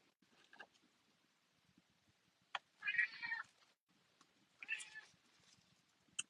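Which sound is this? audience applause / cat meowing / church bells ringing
cat meowing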